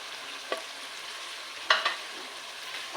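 Fried taro (arvi) is stirred into a masala frying in a pan. A soft, continuous sizzle runs under a few brief spoon-and-pan scrapes and clinks, with no voices.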